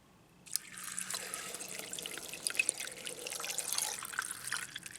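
Water poured into the bottom reservoir of a homemade self-watering pot for a zebra plant, a steady close splashing trickle that starts abruptly and runs continuously with small drips and gurgles.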